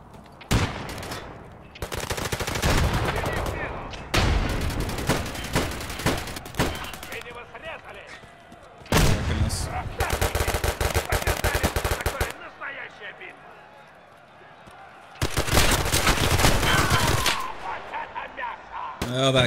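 Long, loud bursts of automatic rifle fire in Escape from Tarkov: Arena, firing PS ammo, come in four sustained strings separated by brief quiet gaps.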